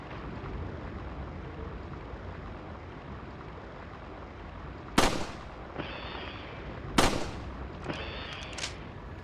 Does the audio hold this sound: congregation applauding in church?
no